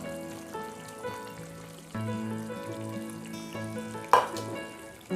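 Brinjal and masala fry in oil for an oil-based kathirikai kulambu, giving a quiet sizzle with occasional stirring, partly under tonal background music.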